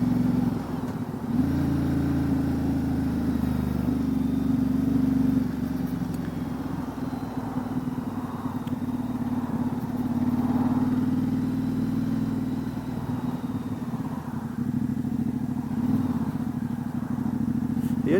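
A 2019 Ducati Diavel 1260 S with a Termignoni exhaust rumbles steadily while being ridden, a loud, continuous low engine drone that swells and eases with throttle changes, close and unbroken with no talk.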